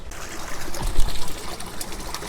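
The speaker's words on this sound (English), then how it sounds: "let's turn on one of the hose water so we can clean the filters" Water from a garden hose splashes and trickles steadily near a koi pond while pond filters are rinsed, a close, continuous wash with small surges.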